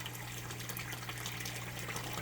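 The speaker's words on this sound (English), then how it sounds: "the out tube, the water got high enough, and the water's coming out." Water gushes steadily from the outlet tube of an indoor DIY aquaponics system, a continuous close splashing flow with a low pump hum underneath.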